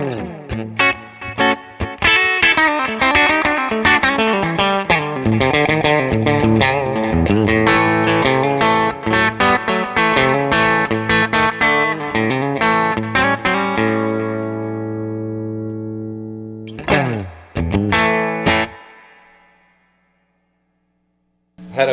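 A 1967 Deluxe Reverb amp carries an electric guitar with its reverb dialed back to 3, sustained chiming chords and notes played loud and steady, ending in a short burst and fading out.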